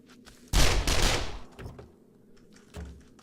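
Gunfire from 7 Days to Die with the BorderlandZ mod: a loud burst of rapid shots lasting about a second, then quieter scattered reports and one more short burst near the end.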